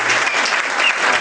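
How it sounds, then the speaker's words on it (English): Loud, close applause from a party crowd at a Brooks House leasing celebration, a brief burst of dense clapping with scattered cheers and no speech over it. "Come on up here and give your applause."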